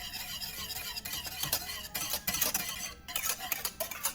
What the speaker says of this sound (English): And then add your butter. Continue to whisk.